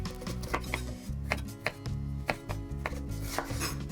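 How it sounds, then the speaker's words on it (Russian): A knife cuts a bell pepper into cubes on a board, giving a quick, close, irregular series of sharp chops. "Начнем с перчика. Режем произвольно."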